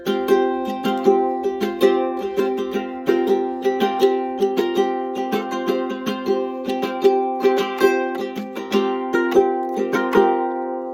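A ukulele strums steadily, switching back and forth between two chords in an even, bright rhythm, played alone and close.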